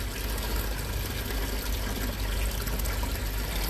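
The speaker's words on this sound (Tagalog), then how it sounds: "Ang banga ay may lumalabas na tubig" Water spills steadily from a jar fountain in a garden, a constant close splashing rush with no pauses.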